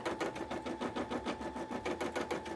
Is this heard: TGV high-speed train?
no